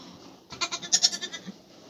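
Goats bleat close by in a quick burst of several wavering, nasal cries lasting about a second, with quiet surroundings before and after.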